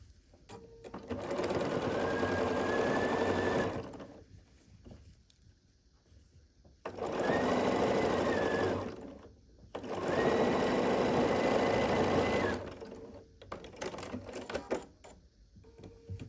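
Sewing machine stitching the seams of a churn dash quilt block, running in three steady bursts of a few seconds each with quiet pauses between, close and loud.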